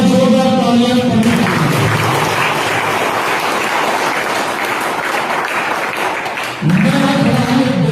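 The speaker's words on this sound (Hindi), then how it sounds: "मैं चाहूंगा जोरदार तालियां करने" An audience bursts into loud, sustained applause for a bronze-medal wrestler from an all-India inter-university championship. The clapping runs steadily for about five seconds between stretches of amplified speech.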